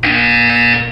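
A steady electronic buzzer from the video game Portal 2 sounds once, loud and sustained for about a second with a harsh tonal buzz, then cuts off, with no talking over it.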